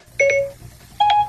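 Two short chiming electronic tones from an iPhone's Siri activation sound ring out close and clear, each a bright rising two-note blip, with no talking around them.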